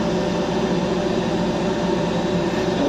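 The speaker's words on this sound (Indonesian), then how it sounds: "Ini kereta api premium" Steady, dense rumble and rolling noise from inside the Argo Bromo Anggrek executive train while it runs, continuous and fairly loud with no speech.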